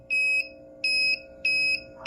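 Automatic alarm on an empty day bin or hopper, a loud electronic beep sounding in three evenly spaced pulses over a faint machine hum.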